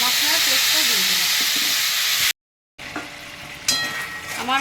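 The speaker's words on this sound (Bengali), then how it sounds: "এবার আমি আদা মশলার পেস্টটা দিয়ে দিলাম।" Ginger and spice paste hitting hot oil while cooking chana dal gives a loud, close sizzle with stirring. It breaks off into a brief silence, then returns with scraping and a sharper crackle.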